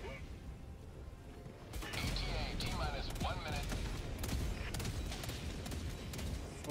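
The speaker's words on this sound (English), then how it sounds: "Brother, they're just shooting lasers from the wood." Rapid laser gunfire and automated sentry turret shots in a video game form a continuous burst of crackling, whooshing fire. It begins faintly and turns loud and dense from about two seconds onward, with mechanical zaps layered throughout.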